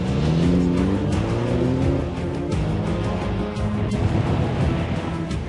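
A Mini Cooper S convertible drives along with a steady, fairly loud engine drone that rises and falls slightly with throttle, heard continuously without anyone speaking.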